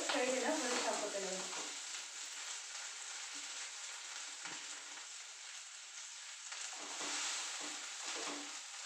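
Fenugreek seeds fry in oil with a bright crackling sizzle that starts loud and then settles into a quieter steady hiss, broken by a few soft stirring sounds.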